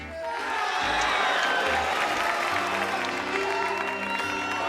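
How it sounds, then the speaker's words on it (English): A studio audience at a magic show claps and cheers in a dense, loud burst that holds steady for several seconds. "We'll vote with your applause"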